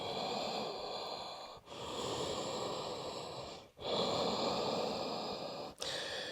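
Deep, audible breaths in and out through the nose during a yoga sun salutation, three long rushing breaths separated by brief pauses, close and steady.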